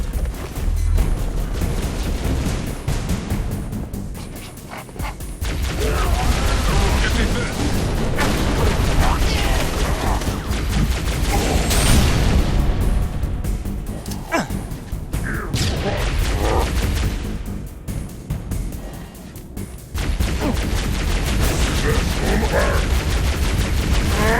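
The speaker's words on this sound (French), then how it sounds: "Il me tire dessus." Gunfire and explosions from the Halo Reach video game's Winter Contingency mission fill a loud, dense battle with bursts of automatic fire and booms, while voices speak over the fighting.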